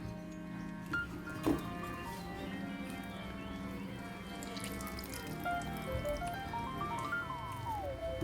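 Water runs and drips from squeezed taro (colocasia) leaves into a bowl while preparing a traditional Kerala avial, a steady trickle with splashes near the mic under light background music.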